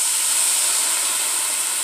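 White wine hits a hot pan of mushrooms with a loud, continuous sizzling hiss, steady and close for its short length.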